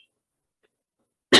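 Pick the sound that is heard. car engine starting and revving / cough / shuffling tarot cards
cough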